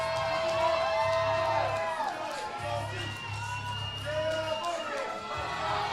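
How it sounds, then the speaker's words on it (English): A crowd at a powerlifting meet cheers and shouts steadily behind a lifter's state-record 513-pound deadlift attempt, with many overlapping voices whooping at moderate distance throughout. "Crowd's getting behind him."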